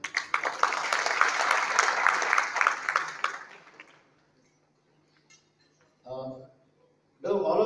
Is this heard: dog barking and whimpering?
no